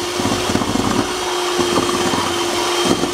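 An electric hand mixer beats butter with sugar for a Thai pan-baked cake, a steady motor whir running through the whole stretch at close range with a faint rhythmic churning of the beaters in the bowl.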